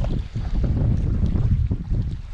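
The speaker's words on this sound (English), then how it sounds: "The wind has stayed strong for the past hour or so" Strong wind buffeting the microphone beside the water during fly fishing with a large horn sedge dry fly, a loud low rumbling gusty roar throughout with no speech.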